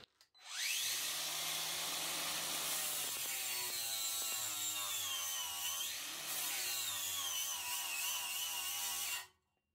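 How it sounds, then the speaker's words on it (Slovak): A Parkside PWSA 20 Li-C3 cordless angle grinder with a 40-grit disc grinds down a roughly 1 mm weld bead on sheet metal, a loud, steady high-pitched whine with grinding rasp, held for about nine seconds, briefly dipping mid-cut. "A ďalej budeme brúsiť túto slzičku na plechu."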